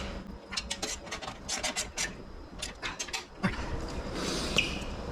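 Tightening exhaust bolts on a Tab Performance 4.5 inch B.A.M. sticks exhaust with Zombie Baffles outdoors on a breezy day: repeated short rasping, rubbing ratchet strokes in quick bursts, close and moderately loud over steady wind noise.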